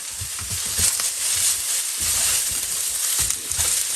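Noodles and bean sprouts for soya sauce fried noodles land in a hot pan and sizzle steadily, with soft thumps and stirring scrapes close by and no voice.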